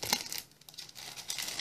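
Adhesive tape torn from a roll among craft supplies such as ribbon and decoupage paper, giving a few close, dry ripping and crinkling bursts with no talking.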